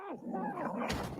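A dog in a film scene whimpers and yelps in quick, strained bursts, fairly close and loud, with a busier noisy burst near the end.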